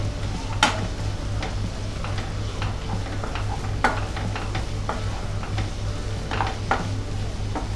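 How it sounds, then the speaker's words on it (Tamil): Ginger garlic paste sautés with softened onions in a pan for an egg masala white curry, a steady low sizzle with occasional scraping stirs and light clinks of a spoon against the pan. "இப்போ இஞ்சி பூண்டு பேஸ்ட்டு சேர்த்துக்கலாம். இதோட பச்சை வாசனை போகிற வரைக்கும் வதக்கிக்கோங்க."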